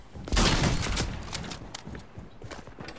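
Fortnite gunfire: a dense rattle of rapid shots opens loud and close, then breaks into scattered, quieter cracks and impacts over a few seconds with no speech.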